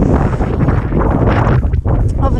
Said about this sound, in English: It's windy this side.